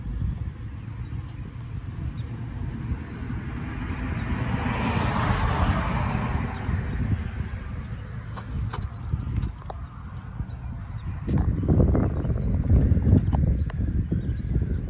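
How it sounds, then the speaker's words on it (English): A 1976 Cadillac Eldorado engine idles with a low, rumbling exhaust burble through a replacement muffler, steady and close, swelling louder toward the end. "Exhaust sounds good."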